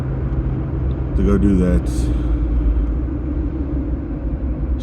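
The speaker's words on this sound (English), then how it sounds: "here I am driving" Steady car road noise and low engine rumble from inside a moving vehicle, continuous and fairly loud, with someone talking over it.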